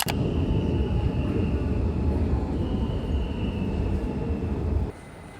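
A Warsaw metro train in motion, a loud continuous low roar and rumble of the running carriages with a faint steady whine above, which drops abruptly to a quieter hum near the end.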